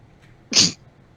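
A single sharp sneeze bursts out of near-silence, close and loud, then fades quickly.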